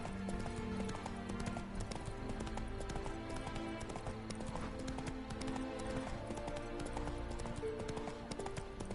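The horse Roach gallops in a video game, a fast, even clip-clop of hooves running continuously and loudly over steady background music, with no talking.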